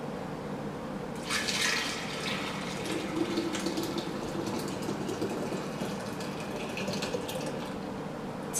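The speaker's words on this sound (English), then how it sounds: "pour the juice from this bowl into the pitcher" Green detox juice poured from a bowl into a pitcher gives a steady liquid splashing and trickling sound that starts after about a second and continues close by to the end, with no talking.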